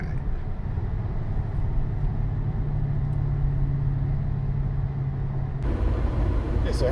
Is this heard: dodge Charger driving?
yes